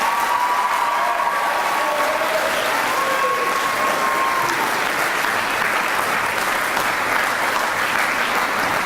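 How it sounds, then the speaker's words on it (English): A graduation crowd at a high school ceremony claps for the teachers in sustained, even applause, with a few brief voices or cheers rising over it early on. "So please give our teachers a round of applause as well"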